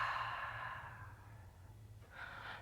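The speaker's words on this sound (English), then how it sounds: "take a breath in" A long, audible exhale through the nose during a seated yoga breathing practice, close and fairly loud, fading slowly before a short second breath near the end, with no talk.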